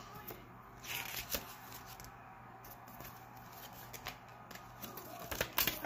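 Paper is handled close by, with crinkly rustles and soft rubbing. The sheet is an insert listing flavours, and it is pulled from a package alongside other items. The rustles come in short bursts with small pauses between them.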